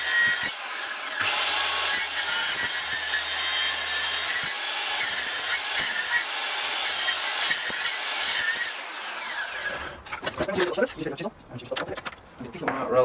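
A power tool cuts into a wooden pergola cross beam at a set one-inch depth, giving a loud, sustained, gritty sawing drone that breaks into choppier, irregular scraping near the end, with some voices present.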